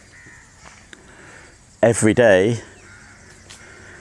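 A crow caws loudly and close at a lake in a park, a strong harsh call lasting under a second, with a few quieter sounds and a voice before and after it.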